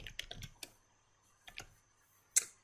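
Quiet keystrokes on a computer keyboard as a heading is entered into a spreadsheet cell: a quick burst of clicks, a pause, a couple more taps, then one final sharper key press, with no talking.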